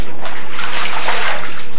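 Floodwater of the overflowing Pigeon Creek rushing loudly and continuously in a dense, close roar of water, with no voices.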